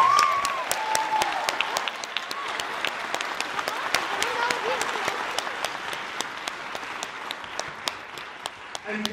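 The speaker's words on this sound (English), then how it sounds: "Let's give them a huge round of applause." A theater audience at a Shakespeare monologue contest applauds the finalists with steady, fairly close clapping that keeps an even pace and thins slightly toward the end.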